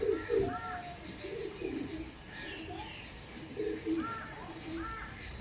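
Andhra pigeons coo softly in low, repeated throaty calls over a steady background hum, several birds overlapping at close range.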